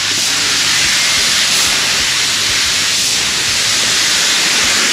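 Steady, loud hiss of a spray gun laying a second coat of paint on parts of an '81 Chevrolet C10 truck, a continuous broadband spray filling the whole stretch with slight swells in intensity.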